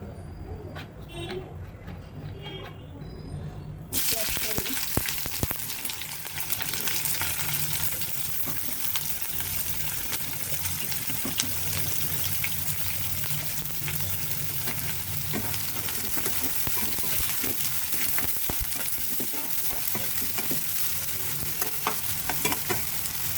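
Onions hit hot oil in a pan for black pepper chicken: a few quiet seconds with murmured voices, then a sudden loud sizzle that keeps crackling steadily to the end.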